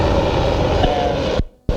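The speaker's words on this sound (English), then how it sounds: "Sorry about the helicopter" A helicopter passes overhead, a loud steady rotor-and-engine roar that fills the space, then cuts out sharply near the end before returning.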